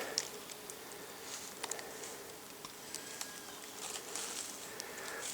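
Buzzing of "rock black" bees that nest in the ground in Sumy region, a faint, steady outdoor hum with brief scattered clicks and patters over a low background.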